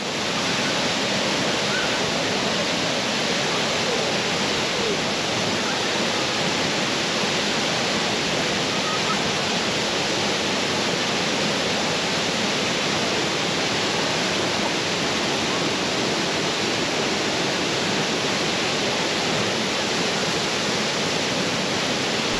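Sajikot waterfall in a mountain valley roars with rushing, falling water, a dense, unbroken wash of sound that stays loud and even from start to finish with no voices.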